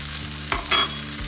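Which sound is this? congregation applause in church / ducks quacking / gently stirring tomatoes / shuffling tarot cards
gently stirring tomatoes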